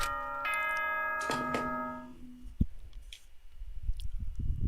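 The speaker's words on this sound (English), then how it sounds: "Ding dong, bing bong." A ding-dong chime from the video game Danganronpa rings out as bright, layered tones, with a second ringing note, then fades over roughly two seconds. Soft rustling and noise follow.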